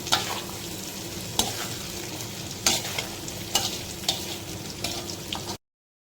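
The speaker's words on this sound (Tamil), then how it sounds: "இது சின்ன வெங்காயம் போட்டு அதையும் கொஞ்சம் வதக்குவாங்க எண்ணெயில் இதுவும் வதங்கணும்" Garlic and small shallots sautéing in oil for pepper kuzhambu, a continuous close sizzle punctuated by several sharp scraping stirs of a spoon against the pan.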